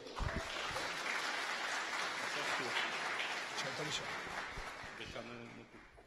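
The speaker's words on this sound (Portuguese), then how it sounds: "Por favor, pausa, palmas para ele." Audience clapping at a startup pitch duel event, a broad steady patter that stays level before tapering off near the end, with a voice speaking over it.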